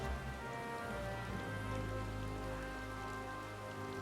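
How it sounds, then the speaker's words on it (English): Rain in the video game Final Fantasy XIV, a soft, steady patter of drops on surfaces that continues evenly throughout, faint and mixed with a low ambient game drone and tonal background hum. "By the way, it's raining."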